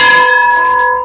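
A temple bell at the Ram temple in Devprayag rings with a single loud, clear metallic strike, its bright tones ringing on and slowly fading over about a second.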